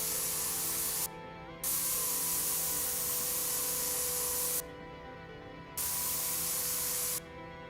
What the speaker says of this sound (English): It's supposed to be a much better coverage than the last spray gun.